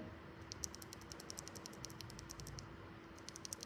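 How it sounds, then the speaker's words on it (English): Typing on a premium custom mechanical keyboard fitted with Gateron Oil King switches, a steady run of crisp, close keystrokes with a soft low hum beneath and no talking. "The Gateron Oil King, I think is the most popular budget switch for the premium keyboard."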